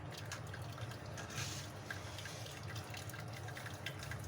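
Cooked ingredients for jam-e-shirin are pressed in a strainer so their liquid drains out, a faint, steady trickle and patter of dripping water.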